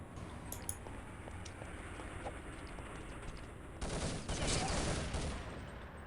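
A grenade goes off in a competitive multiplayer shooter match, a muffled burst with a roughly two-second rumbling tail, preceded by faint distant gunfire and game ambience, and followed by a sharp crack at the very end.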